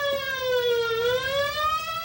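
A wailing siren sweeps down and back up in pitch, loud and continuous with rich harmonics, sounding close by.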